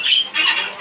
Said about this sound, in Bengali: দেখেন, আমার তিতিরগুলো খাবারের জন্য অস্থির হয়ে গেছে।